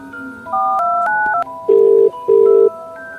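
A sequence of electronic telephone keypad tones, several short dual-tone beeps followed by two longer steady tones, clear and close with no talking.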